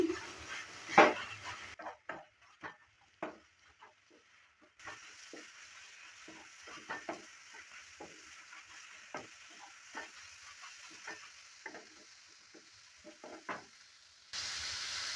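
Squash and bori are stirred in a pan with a spoon, giving scattered scraping clicks and knocks over a faint sizzle, with a steadier frying hiss toward the end.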